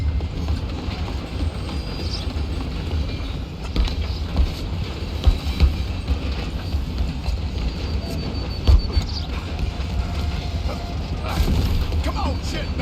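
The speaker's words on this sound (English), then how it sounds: "I'll stop the train." A moving train in Red Dead Redemption 2 gives a continuous low rumble and rhythmic clatter of wheels on rails with occasional metallic clanks, while voices shout intermittently over it.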